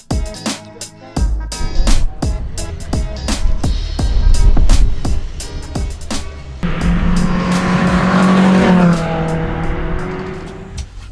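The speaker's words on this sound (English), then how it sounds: "You might be able to hear the cars in the background there." Race cars, including RenaultSport Clio 182 Cup cars of the 750 Motor Club, lapping Donington Park circuit on a windy, wet weekend: loud, continuous engine roar and passing cars with sharp buffeting clicks nearby.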